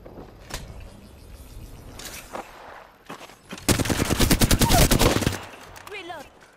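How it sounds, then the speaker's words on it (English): Bursts of rapid video game gunfire, a few isolated shots early on and then a loud sustained automatic volley in the middle, followed by quieter mechanical sounds. "Shots. Opening fire."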